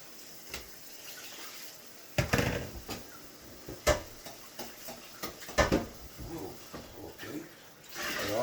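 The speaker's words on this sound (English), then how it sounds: "So I'm gonna pour all the beer off right now." Beer is poured off a pot of steamed chicken, with intermittent splashing liquid and clattering pot sounds that come in uneven bursts, fairly close and moderately loud.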